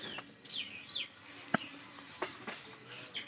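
Pigeons at close range: faint chirps and rustling movements with a sharp tap in the middle, quiet against a low background.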